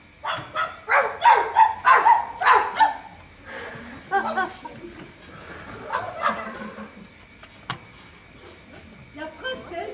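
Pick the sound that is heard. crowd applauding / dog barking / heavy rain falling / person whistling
dog barking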